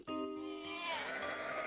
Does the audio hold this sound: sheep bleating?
yes